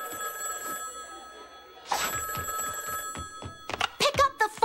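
Cartoon telephone bell ringing in an animated show, a sustained metallic ring that cuts off and then returns in several sharp bursts, with dialogue underneath.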